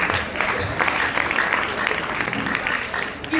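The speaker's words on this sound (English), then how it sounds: "I think you can clap better than that." An audience at a university college of education conference claps steadily for several seconds, a dense, even patter of many hands filling the hall at moderate loudness.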